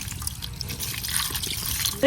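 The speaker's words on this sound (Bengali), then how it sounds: "এখন আমার হাতটা ধুয়ে অল্প একটু পানি দিয়ে দেন।" Water is poured over hands to rinse them during cooking, making a steady, close trickle and splash for about two seconds, with faint voices in the background.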